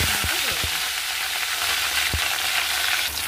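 A large katla fish piece sizzles steadily in hot oil, a loud continuous frying hiss with a couple of faint utensil taps underneath.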